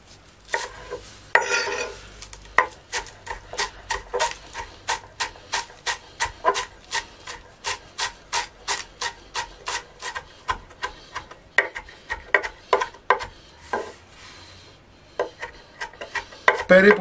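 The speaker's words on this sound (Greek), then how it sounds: "ένα ψιλοκομμένο κρεμμύδι, ανακατεύουμε λιγάκι" Chopped onion is stirred in a pan with a wooden utensil, making a regular series of scraping, rasping strokes, close and fairly loud, with a short pause before the strokes resume.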